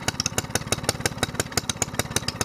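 SPS longtail boat engine running after long storage, a fast steady putter of small-engine firing pulses at idle, close and fairly loud with no talking.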